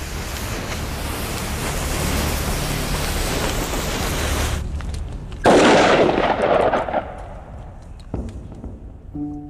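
Gunpowder packed in a clay-lined gourd bursts outdoors: a roaring, hissing rush of burning powder gives way to a sharp, loud blast, then fading debris and crackle.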